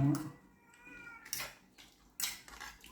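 A cat meows in a few short, separate calls. The calls are moderately loud and close, with voices talking at times in the background.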